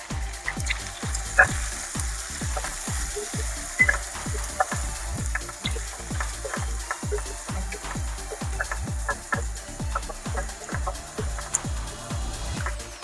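Onion, curry leaves, ginger and garlic sauté in hot oil, a soft continuous sizzle punctuated by a steady, evenly paced series of dull stirring thumps against the pan.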